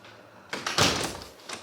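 Doors swing open into a room at the Flamingo Beach Hotel in Playa Blanca, Lanzarote, giving a couple of close, dull knocks and a brief rattling thud.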